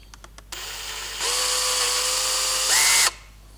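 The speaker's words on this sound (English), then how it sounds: "Now we'll just drill a hole in that double-sided tape." A power drill bores a hole through double-sided tape, with a few quick clicks, then a steady whine that rises in pitch partway through before cutting off abruptly, close up and alone.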